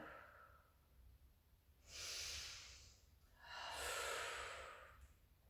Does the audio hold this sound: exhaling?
yes